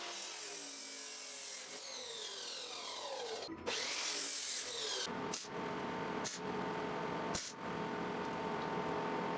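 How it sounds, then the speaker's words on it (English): A power tool cuts a metal bracket for a VW Bus side mirror, a loud continuous whine that shifts in pitch, broken by several sharp short interruptions. "So I'm going to go ahead and cut that and weld it together"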